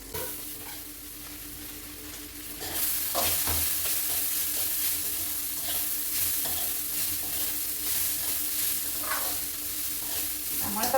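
Food fries in a pan, with beans among the ingredients, while a utensil stirs it. A soft background gives way to a loud, continuous sizzle, broken by repeated scraping strokes, with no talking.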